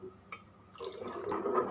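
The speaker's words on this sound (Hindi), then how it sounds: "आहिस्ता आहिस्ता आपने कस्टर्ड पाउडर जो है दूध में मिक्स किया हुआ वो डालना है और कंटिन्यूसली आपने इसके अंदर जो चम्मच है उसको हिलाते रहना है" A brief, soft liquid pour as custard powder mixed into milk goes into a pan for a mango dessert, with faint dripping and a spoon stirring close by.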